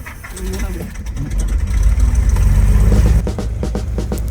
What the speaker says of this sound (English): the engines fire up with all the finesse of a Land Rover on a cold morning